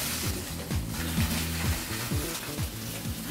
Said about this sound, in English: So we sear the rabbit.